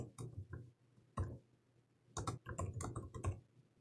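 Keys tapped on a computer keyboard while entering a Linux usermod command as root, heard as faint scattered clicks in short irregular bursts with brief pauses between groups.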